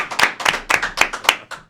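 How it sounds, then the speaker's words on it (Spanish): A few close, sharp hand claps from an audience at a church gathering in Santo Domingo, welcoming a visiting pastor; the claps are evenly spaced, roughly four per second. "recibamos con un aplauso"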